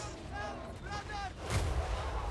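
Artillery from hell cannons in a Total War: Warhammer 3 siege battle: one deep blast thumps midway through, following faint tonal battle cries over a constant din of combat.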